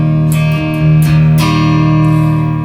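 A clean Telecaster electric guitar rings out through two amplifiers, with sustained chords and a few fresh strums, full and close, and no voices.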